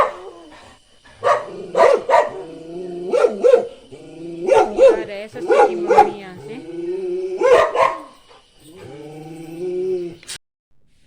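Dogs barking at a home as visitors arrive, loud and close in a steady run of sharp barks over roughly ten seconds, with a voice speaking briefly near the end.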